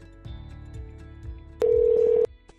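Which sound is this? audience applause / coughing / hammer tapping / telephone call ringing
telephone call ringing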